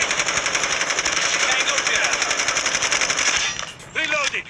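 Rapid automatic gunfire in a Call of Duty Hardpoint match, a dense sustained burst of shots that cuts off near the end, followed by a brief voice.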